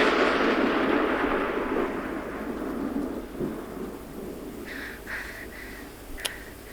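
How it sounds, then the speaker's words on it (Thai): Thunder rumbles heavily then fades while steady rain hisses in the background, with a few faint higher chirps near the end. "คุณปิ่นก็ยังคงกลัวเสียงฟ้าร้อง"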